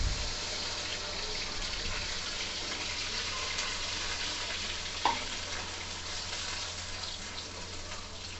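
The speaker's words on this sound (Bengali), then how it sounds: "আমরা এখানে পেঁয়াজ পেস্ট দিয়ে দিচ্ছি।" Onion paste frying in a large pan for a wedding-style chicken roast gravy, a dense, even sizzle that holds steady, with a single brief clink partway through.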